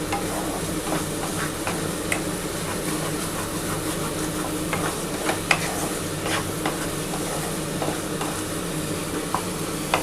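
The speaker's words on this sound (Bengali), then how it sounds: "দেখো মশলাটা খুব ভালোভাবে কষানো হয়ে যাচ্ছে, তেলটা কিন্তু ছেড়ে ছেড়ে আসছে।" Spice paste for a Bengali prawn malai curry sizzles in oil in a pan while being stirred, a steady soft frying hiss with scattered scraping clicks of the spoon.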